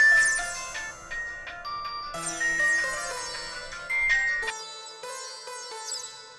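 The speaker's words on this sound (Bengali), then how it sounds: "ফোনটা ধরো তাড়াতাড়ি।" A mobile phone ringtone plays a bright, melodic chiming tune that rings steadily for about six seconds at moderate volume, with no one speaking.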